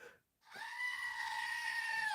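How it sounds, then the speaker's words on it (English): A screaming goat stress-relief toy lets out one long, loud, sustained bleating scream that starts after a brief silence and holds steady to the end. "It's a screaming goat."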